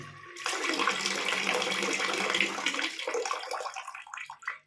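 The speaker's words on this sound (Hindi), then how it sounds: "पानी जैसे भरेगा तो ये पानी का लेवल ऊपर आएगा" Water rushes into a concealed toilet cistern, a steady close filling hiss that starts abruptly, runs for several seconds and tapers off as the flow cuts.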